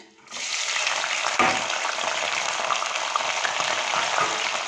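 Onions and bay leaves dropped into hot mustard oil in a kadai burst into a loud, steady sizzle that starts abruptly and holds evenly throughout, with no talking.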